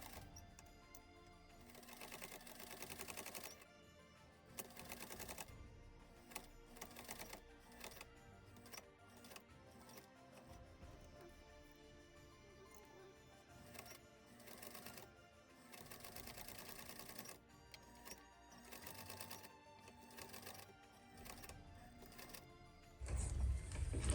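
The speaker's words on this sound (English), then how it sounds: "I'm gonna sew from here going up to the fold here, going down, and continue to do so." Fabric is stitched on a sewing machine for a handmade Christmas gift, with bursts of quick needle clatter separated by pauses, repeated stop-start runs throughout, close and moderately loud with no talk.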